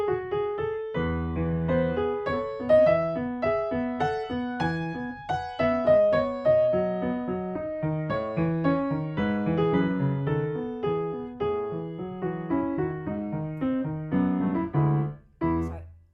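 A solo piano plays a flowing passage with both hands balanced at equal loudness, chords and melody ringing together clearly and evenly for about sixteen seconds.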